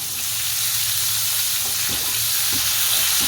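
Capsicum frying in hot oil in a pan makes a loud, continuous hissing sizzle, close up, with a few faint clinks of stirring underneath and no voices.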